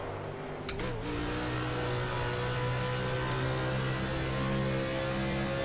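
Race car engines in the NASCAR Racing 2003 video game with 2008 Car of Tomorrow cars, a steady sustained high-revving drone with a brief sharp blip early on, continuous and fairly loud.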